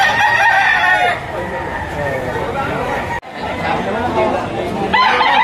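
Young roosters, seven to eight months old, crow at a busy poultry auction, the long calls rising over steady crowd chatter and talk.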